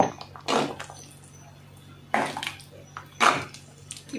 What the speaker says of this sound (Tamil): இப்போ இன்னும் கொஞ்சம் தண்ணி வச்சுக்கலாம் இதுலேயே